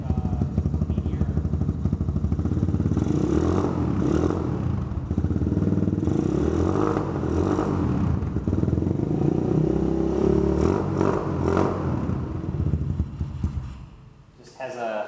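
A Cleveland CycleWerks motorcycle with a custom exhaust runs close by, its uneven, throbbing beat rising and falling before it cuts off near the end, with a voice speaking over it.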